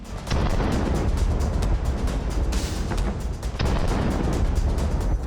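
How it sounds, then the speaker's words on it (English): Heavy explosions and gunfire from Javelin missile strikes on Russian tanks, a loud dense barrage of booms and crackling blasts that goes on without pause, with a brief dip near the middle. "The Javelin hunts down 4 Russian tanks and destroys them."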